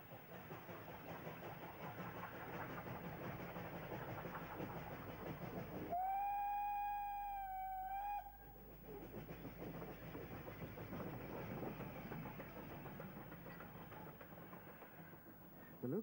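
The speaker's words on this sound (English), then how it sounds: "The locomotive is number 10," Steam locomotive No. 10 Sir Drivaldwyn works up a demanding 1 in 32 curving climb toward Castle Caereinion with a steady, rumbling chug. A sustained whistle blast sounds for about two seconds midway.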